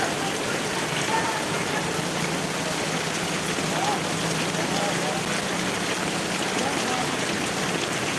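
Heavy monsoon rain in Mahuva pours in a constant, dense rushing hiss, loud and unbroken for the whole stretch, with faint higher sounds now and then.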